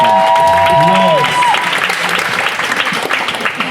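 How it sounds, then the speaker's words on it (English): Loud audience applause and cheering at a spoken-word poetry session, a thick sustained roar of clapping, with a brief vocal whoop or tone at the start and voices blended into the crowd noise. "A round of applause for Morgan Park."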